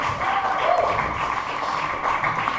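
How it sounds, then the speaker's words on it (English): A comedy-show audience applauds a comedian with steady, dense clapping that holds at an even level from start to finish. "keep that round of applause going"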